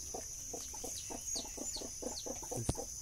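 Chickens cluck among corn scattered on the ground, a close run of short rhythmic clucks with faint chirps and a steady insect-like whine behind them.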